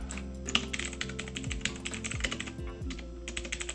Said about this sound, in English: listen to like the keyboard clickety clackety